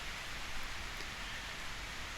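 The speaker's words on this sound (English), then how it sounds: "it's just started to pour with rain outside" Heavy rain pours steadily outside, a dense, even hiss that fills the whole stretch without letting up, fairly soft and with no one talking over it.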